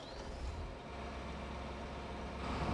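A John Deere 8R tractor's diesel engine in a farming game rumbles steadily with a deep low drone, close and constant, with no one talking.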